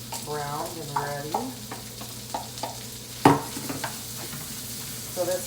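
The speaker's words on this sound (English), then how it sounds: "this is where I'm going to add the corn and the peppers to it and get it all browned and ready." Bacon, corn and peppers frying in a pan: a steady sizzle under brief bits of speech, with stirring scrapes and one loud clatter midway, close by.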